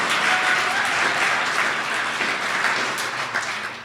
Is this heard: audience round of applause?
yes